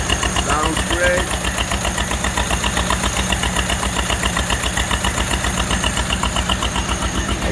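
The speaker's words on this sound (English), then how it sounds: "Model A running" A Ford Model A engine idles steadily after a restart, running off a temporary fuel tank, with an even, rapid pulsing chug throughout and a voice speaking briefly over it.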